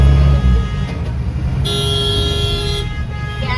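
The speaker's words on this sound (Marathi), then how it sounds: "आणि ट्रॅफिक बघा. गाडी अटकली ना मोठी." Busy road traffic in a congested market street, with a long car horn toot blaring loud and steady over a rumbling engine and traffic din.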